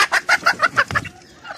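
Native chickens on a Philippine farm cluck close by in a quick, rapid series of short, choppy calls that trail off near the end.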